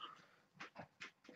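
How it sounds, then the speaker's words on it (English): A male dog pants and whimpers in short, quick huffs close by, a brief run of soft breathy bursts. "And a dog who's a bit pissed off because he's not been out for a walk yet."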